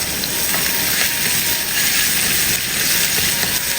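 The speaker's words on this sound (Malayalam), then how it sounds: "ഒരു 10-20 സെക്കൻഡ് ഒന്ന് ഇളക്കി കൊടുത്ത് ഇഞ്ചിയുടെയും വെളുത്തുള്ളിയുടെയും പച്ച ചുവന്ന് മാറണം" Chopped garlic and ginger fry in hot oil with a loud, continuous, hissing sizzle close by, steady throughout as they are stirred.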